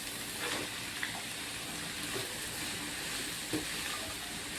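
Sliced bitter gourd goes into a pan of frying onions and chilies, producing a faint, even hiss of sizzling oil with a few soft clicks from stirring.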